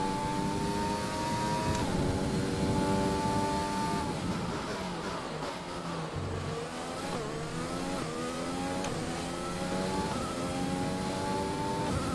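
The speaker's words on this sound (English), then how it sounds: "This is the Mercedes engine we're using." A Mercedes Formula 1 power unit in the F1 2020 racing game, revving continuously with rising and falling pitch through gear changes, loud and close throughout with no talking.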